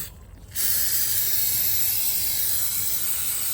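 A steady spray of aerosol cleaner onto a Sprinter van's EGR valve hisses close by, starting abruptly after a brief quiet moment and continuing evenly to the end.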